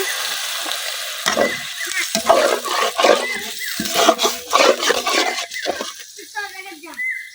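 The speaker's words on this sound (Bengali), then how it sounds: "আদা রসুন বাটাটা আমি খুব ভালোভাবে ভাজা নিচ্ছি" Ginger garlic paste fries in a pan with crackling sizzle and bursts of stirring and scraping, loud and close, for beef trotter nihari cooked in a village kitchen.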